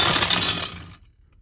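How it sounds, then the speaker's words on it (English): A small metal nut drops off a bolt while a skid plate is being removed under a car, a bright clinking, rattling fall that bounces for about a second and then stops dead, close and fairly loud. "I didn't want to lose that nut, but it just fell"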